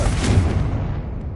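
A Confringo spell blast in the video game Hogwarts Legacy, one loud, deep booming explosion with a rumbling tail that fades over about a second, heard alone.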